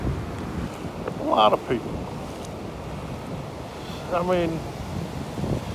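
Strong wind buffets the microphone over rolling surf at Jacksonville Beach, Florida, a constant loud roar with a person talking briefly twice over it.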